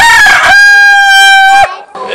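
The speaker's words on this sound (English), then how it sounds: "Hello, Mr. Rooster. How are you? Are you upset with me?" A rooster crows loud and close in one long, drawn-out call, followed by a brief pause and softer clucking.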